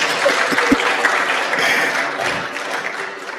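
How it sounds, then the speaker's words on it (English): Sustained applause from a conference audience for an a cappella group, dense clapping with a few louder claps near the start, fading slightly toward the end. "A round of applause for them, please."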